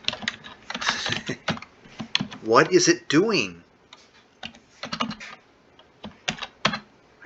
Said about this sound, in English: I guess I'm not used to this keyboard.